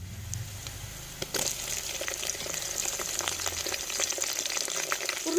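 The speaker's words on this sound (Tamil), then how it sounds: "தக்காளி முருங்கைக்காய் கத்திரிக்காய் உருளைக்கிழங்கு எல்லாத்தையும் இந்த வதக்கி எடுத்துக்கிறோம்" Tomato, drumstick, brinjal and potato sautéing in oil for a dried stingray fish curry give a steady broadband frying hiss with scattered crackles and a few stirring knocks, close and continuous with no voices.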